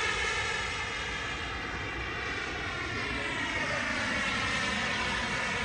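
A small RC turbine jet, an Avanti S V2, flies at around 60% throttle, giving a steady, loud, unbroken engine roar that fills the whole stretch, with no voices.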